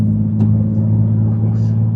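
A boosted Nissan 370Z making about 600 wheel horsepower accelerates hard. Its exhaust gives a loud, steady low rumble with strong engine harmonics that hold through the whole short burst.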